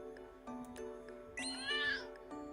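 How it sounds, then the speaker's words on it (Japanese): A cat meows in Granblue Fantasy, a rising, drawn-out call heard clearly over a steady musical background with soft chimes, with no talking. "かわいい猫ちゃんね"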